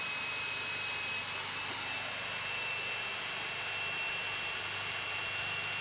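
An electric 700-800 size scale RC helicopter's rotor head spins at about 1200 RPM, a steady, faint, continuous whine with a high tonal hum and an even rushing noise, no voices.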